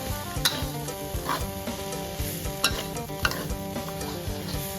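Field rat stir-fried with chili and herbs in a pan: a steady loud sizzle with repeated scraping and clinking of a utensil against the pan, close and continuous, with no talk.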